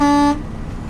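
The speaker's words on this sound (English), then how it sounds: "He's been so excited to toot that horn." A truck horn gives one loud, steady toot lasting about a third of a second, then cuts off into engine rumble at a truck stop.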